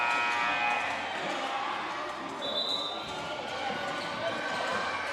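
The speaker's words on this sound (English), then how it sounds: "We got a loud crowd with the Ashdown Elementary helping us out tonight on the other side." A loud crowd fills a gym at a basketball game, Ashdown Elementary fans among them, cheering and shouting in a continuous roar with a commentator talking over it.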